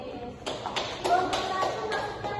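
Students in a classroom clap in brief scattered bursts after being asked for applause, a loose patter of hands at close range with some background chatter.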